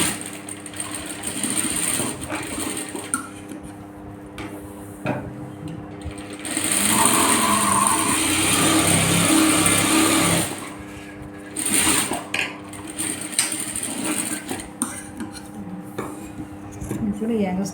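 A sewing machine stitches a blouse at home, its loud, rapid mechanical whirr coming in runs of varying length, with one long sustained stretch, separated by brief pauses and light clinks.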